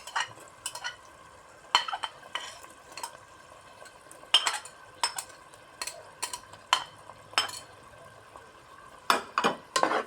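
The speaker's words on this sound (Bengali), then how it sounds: "এখন আমি আগে থেকে সিদ্ধ করে রাখা ছোলার ডালটা এর ভিতরে দিয়ে দিচ্ছি" Spices stirred with boiled chana dal in a pan, a quiet scrape and clatter of a spoon against the metal repeating in uneven strokes over a soft background hiss.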